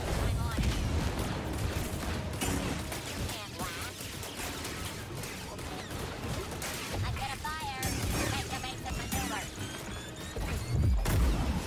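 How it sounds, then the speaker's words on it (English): Enemy blaster fire in Jedi Survivor, a dense, steady stream of shots and impacts running through the whole stretch with loud crashes, while a player talks over the combat. "Hey, I hit him! stop shooting me."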